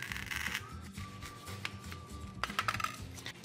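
A sharp kitchen knife slices a styrofoam ball in half, giving close, faint scraping and squeaky rasps that come in short bursts, with no talking.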